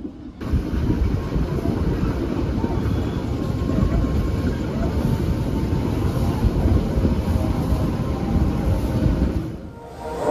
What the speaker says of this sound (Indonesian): Perjalanan kereta api Kauripan tiba di stasiun Kebumen